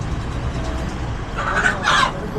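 A couple of short chicken clucks rise over a low background rumble near the end.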